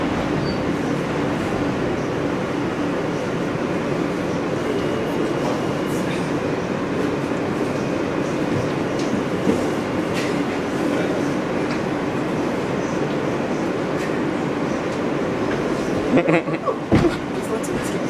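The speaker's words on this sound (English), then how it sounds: "This is a Rockaway Parkway bound L train." A Rockaway Parkway-bound L train on the New York subway rumbles along underground with a steady, loud roar and faint clatter, and a brief squeal and thumps near the end.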